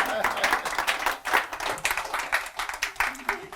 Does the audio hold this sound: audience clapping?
yes